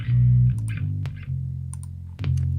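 Guitar played through distortion and reverb pedals, a loud sustained buzzing low chord with short breaks and clipped attacks, ringing on alone with small picking clicks above.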